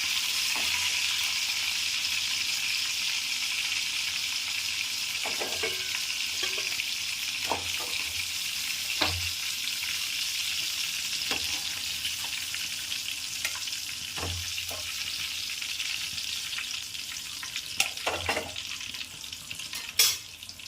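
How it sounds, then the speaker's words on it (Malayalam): Chicken pieces sizzle steadily in hot oil, a constant crackling hiss broken now and then by sharp clinks of a utensil against the pan. "ഇനി നമുക്കിതൊന്ന് വറുത്തേത് മാറ്റണം"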